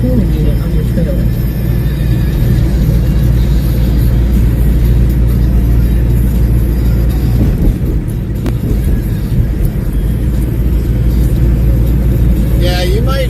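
A refrigeration unit on a truck trailer running continuously, a loud, steady low rumble and drone that holds unchanged throughout, with no clear break.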